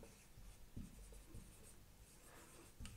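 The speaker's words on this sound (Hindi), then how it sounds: "अब पहली कंडीशन लिखते हैं" Chalk or marker writing on a board in a chemistry lesson: short, close scratchy strokes with a few sharp taps, irregular over a few seconds, fairly quiet with no talk.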